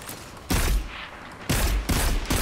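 Scout rifle fire in the Destiny 2 Crucible multiplayer mode: two loud, sharp bursts about a second apart, each ringing briefly before dying away, with no talk over them.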